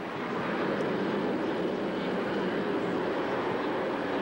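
A loud, steady roar of jet aircraft engines at an air show fills the whole stretch, broadband and unbroken, with no pauses.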